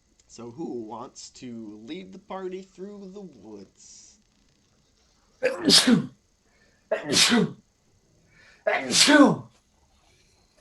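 Three loud sneezes come in quick succession, close by, after a short stretch of a person talking during a tabletop role-playing session.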